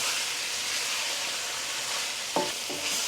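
Meat pieces for a turnip and mutton curry sear in a hot pan with a loud, steady sizzle that runs throughout, broken near the end by a brief metallic clatter of stirring.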